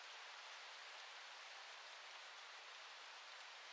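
Steady, soft rain hiss layered into a lofi beat, even and unbroken throughout, quiet and without any other sounds.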